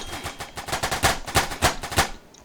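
Rapid series of gunshots in the Roblox video game, around a dozen sharp cracks in quick irregular succession, fairly close and without talk.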